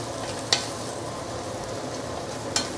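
Spare ribs and potato chunks in curry sizzle steadily in a hot pan, with two sharp scrapes of stirring about two seconds apart standing out over the constant frying hiss.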